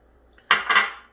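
Utensil scraping and clinking against a bowl while cream cheese and Greek yogurt are stirred together, two short bright bursts close by, no talking.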